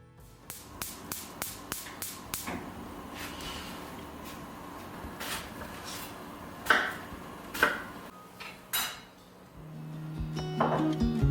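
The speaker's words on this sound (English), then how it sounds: "I start with chopping up all the apples and putting them in a pressure cooker with sugar." A quick run of sharp knife chops through apples on a board, then scattered louder knocks and a soft clatter, close by, with no one speaking.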